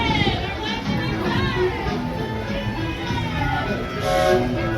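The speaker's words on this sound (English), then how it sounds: "Please remain seated until the train makes a full complete stop and then you give your clearance." A Walt Disney World Railroad train slows to a stop at the Magic Kingdom with rumbling wheels and a squealing, whistling brake tone, while people talk and children's voices are heard around it.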